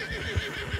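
A white thoroughbred horse gallops in Red Dead Redemption 2, two soft hoofbeats thudding close together over a busy, breathy game soundscape, without any voices.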